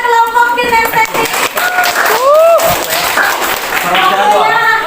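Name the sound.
classroom applause for a student group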